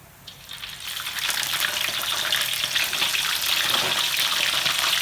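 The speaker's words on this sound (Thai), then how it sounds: "ทอดหมูเสร็จนะคะ เดี๋ยวจะใส่ปลาทอดลงไปค่ะ" Fish and pork fry in a hot pan in a home kitchen. After a quiet second the sizzle swells into a loud, steady spitting crackle that holds close and continuous, with no talk over it.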